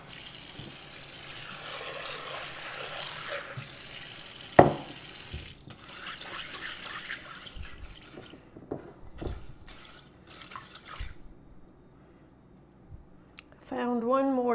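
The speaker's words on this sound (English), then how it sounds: "So I'm just rinsing the beans, see if there's any debris, anything that needs to come out." Navy beans rinsed under a running kitchen tap, a steady wash of water into a sink with occasional knocks and clatter, becoming louder toward the end.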